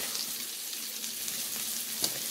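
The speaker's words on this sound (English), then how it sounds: "Add some potato over there in that butter" Potatoes sizzle steadily in hot butter while cooking, a dense, even frying hiss held close and moderately loud, with one brief clink near the end.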